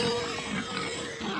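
Pigs oink and grunt on a small farm that raises and slaughters its own livestock, a fairly loud, steady run of snorts and grunts for about a second and a half with no talking.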